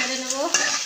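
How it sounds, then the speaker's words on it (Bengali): Gobindabhog rice frying in ghee with cardamom and bay leaves being stirred, a close, brief sizzle with scraping stirring strokes against the pan. "দিয়ে একটু নেড়ে নেব।"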